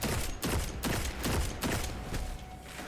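Repeated gunshots from a weapon in Destiny 2, fired at a shielded enemy in a Sepulcher master Lost Sector; about five loud, evenly spaced reports, each with a sharp crack and a short rumbling tail.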